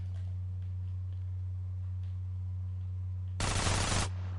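A burst of machine gun fire from GTA San Andreas erupts briefly and loudly near the end, over a steady low game hum.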